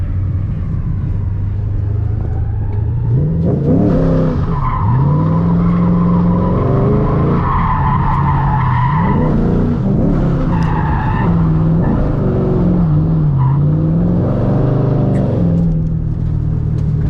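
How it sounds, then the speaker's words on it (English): Ford Mustang drifting on track, tires squealing in long wavering howls over a loud revving engine that rises and falls through repeated slides, close and continuous for the whole stretch. "I'm very impressed with the performance in drift."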